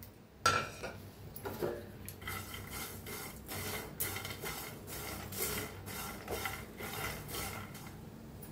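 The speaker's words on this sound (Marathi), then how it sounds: "आता शेंगदाणे पहिले भाजून घेऊया। तर जर भाजायला लय त्याच्यात तीळ बी भाजून घेऊया।" Peanuts and sesame seeds dry-roasting in a pan, with a steady rattling rustle as they are stirred and tossed and a few louder scraping strokes, close and continuous.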